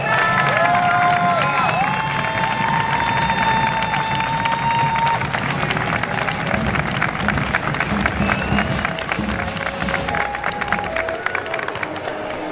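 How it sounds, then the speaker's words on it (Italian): A large crowd in Castellamonte claps and cheers continuously at a public presentation, loud and sustained, with scattered shouts rising from the noise. "Facciamo sentire il nostro applauso ai personaggi del 2023."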